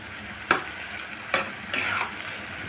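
Potatoes are stir-fried with turmeric and salt, giving a close, steady sizzle broken by a few sharp clicks and scrapes of a utensil against the pan.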